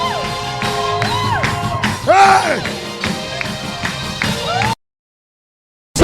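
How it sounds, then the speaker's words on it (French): A worship crowd shouts and cheers for joy, loud whoops and yells rising over music and a singing voice for several seconds before cutting to sudden silence. "pousse des cris de joie"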